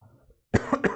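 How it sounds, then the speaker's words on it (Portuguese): A person gives a single harsh cough, up close, in a couple of quick bursts following a brief stretch of quiet. "eu tô com um pouquinho de tosse aqui"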